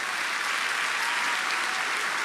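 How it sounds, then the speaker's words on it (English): Sustained applause from a graduation audience at the 2022 Arlington Collegiate High School ceremony, dense and steady clapping filling the venue throughout. "Give them a round of applause"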